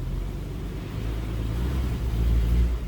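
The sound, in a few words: 1950 Chrysler Windsor engine given gas in reverse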